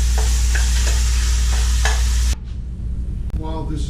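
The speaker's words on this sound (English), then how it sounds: "And now we'll just drop the meat in and get it to browning." Meat browns in olive oil in a pot for chili: a loud, dense sizzle with stirring scrapes for a couple of seconds, then the sizzle softens and continues quieter with a few clinks.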